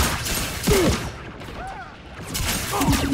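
Assault rifle fire in the first-person shooter Lawbreakers, a few sharp, loud shot bursts with ringing tails, scattered across a few seconds amid in-game effects.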